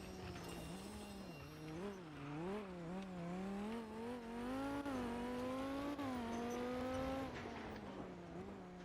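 A V10 car engine in the Roblox video game hums steadily while its pitch rises and falls with throttle changes. The engine sounds moderately loud, with no voices over it.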